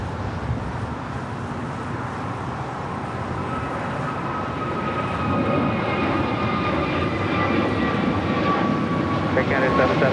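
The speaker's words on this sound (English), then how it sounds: "That's the big Q cargo coming in from Amsterdam, flight 8105. It's 777 freighter." Boeing 777 cargo freighter arriving from Amsterdam at LAX, a steady jet engine roar that grows louder about halfway through and then holds, sounding fairly distant and continuous.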